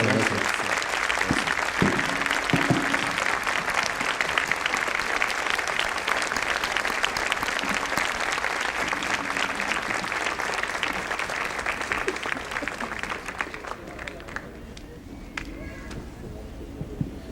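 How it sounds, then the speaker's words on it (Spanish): An audience at a literary conference in Lima applauds Nobel laureate Jean-Marie Le Clézio, a sustained, loud ovation of many hands that carries on steadily before thinning and fading toward the end, with a few voices mixed in. "un aplauso por favor para Jean-Marie"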